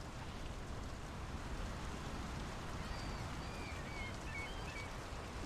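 Even, hissing rainfall in the video game Draugen fills the scene without a break, with a few faint bird calls rising above the steady patter.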